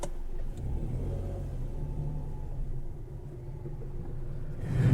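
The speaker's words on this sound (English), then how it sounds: "fire the 1-litre 3-cylinder engine, and it settles back into a modest background thrum" A Toyota Aygo's 1-litre three-cylinder engine idles with a low, steady thrum heard from inside the car, holding even throughout before swelling slightly at the very end.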